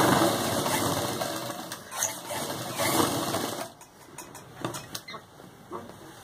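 Sewing machine stitching the pleated panels of a Patiala salwar, a steady close whirring run for about four seconds, then stopping and restarting in shorter bursts with light clicks.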